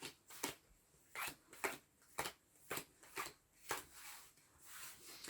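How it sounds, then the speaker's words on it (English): Playing cards for the Undaunted Normandy board game being shuffled, a series of about nine crisp riffle bursts at a steady pace, close and fairly quiet, with no talking. "I need to shuffle these."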